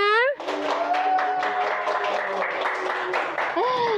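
A studio audience at a talk-show taping applauds a guest, steady clapping running for several seconds under bright background music, with a voice speaking briefly at the start and end.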